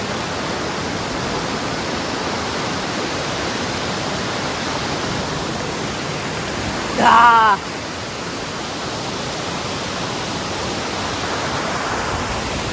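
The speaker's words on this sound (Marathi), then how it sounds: "हे सगळं पाणी असं वाहत येत आहे" Kalu Waterfall on a monsoon trek, its water rushing in a loud, constant roar that fills the scene, with a brief louder splash or shout near the middle.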